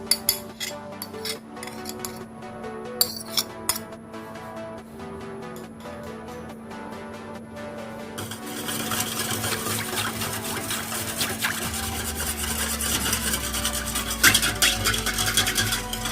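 Heavy cream being stirred in a pot for milk pudding (mahalabia), with soft scraping and rubbing that run steadily, then grow louder and denser in the second half, alone with no talk.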